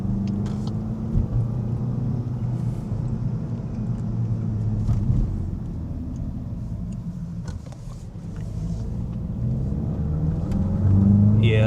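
A car with a limited slip differential accelerates in a steady, loud engine rumble that builds toward the end, with a little wheel slip, heard from inside the cabin.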